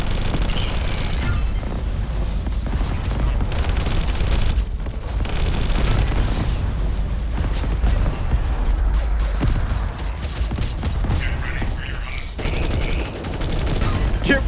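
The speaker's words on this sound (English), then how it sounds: "Grenade" Heavy, sustained combat noise rumbles through the Echo Point Nova shooter, with a grenade blast buried among continuous gunfire and booming explosions. The whole stretch stays loud and dense from start to finish.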